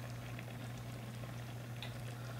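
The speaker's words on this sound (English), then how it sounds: "we have everything in a pan, and it's coming up to a nice boil" Skillet spaghetti with seasonings and oregano comes to a boil in a pan, giving a steady low bubbling hum with soft pattering pops throughout, close and fairly quiet, no talking.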